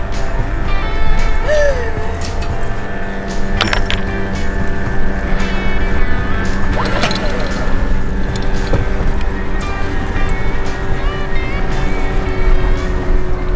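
Steady engine drone of a boat moving across water, with constant rushing and splashing noise throughout, loud and close.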